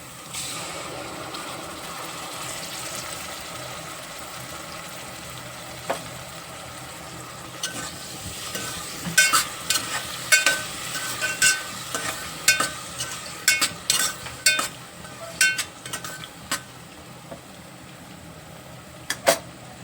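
Browned onion fries in a pan with ginger, garlic and chilli paste, a soft steady sizzle under repeated scraping and clinking of a spoon stirring against the pot.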